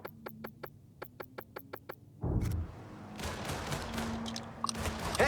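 Rapid gunfire from the video game Mafia 3: a quick series of crisp single shots, then a heavy, sustained burst of automatic fire with dense, rumbling impacts, loud and close.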